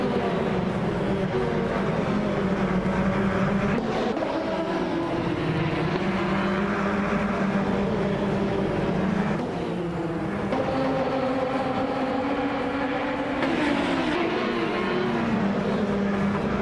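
Several race cars roar off the line together at Altamont Raceway Park in a racing game, a dense, loud, continuous engine drone that shifts pitch as gears change and the pack accelerates.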